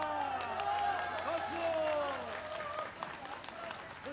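A crowd at a homecoming speech applauds under continuing voices, the clapping a soft broad wash beneath the talk.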